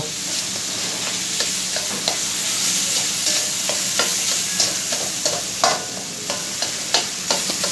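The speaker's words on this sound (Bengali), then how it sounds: "তো আমি এখন এটাকে খুব ভালো করে ভেজে নেব।" Steady sizzling of pointed gourd frying in a pan, with repeated scraping and clinks of a spatula stirring them.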